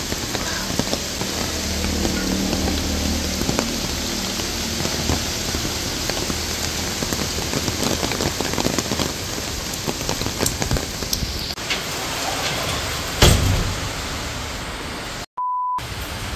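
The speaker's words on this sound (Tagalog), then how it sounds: "Grabe po ang ulan, wala pong tigil." Heavy typhoon rain from Typhoon Uwan pours steadily on a roof and surfaces in a dense, hissing roar, with a brief sharp knock and a short electronic tone near the end.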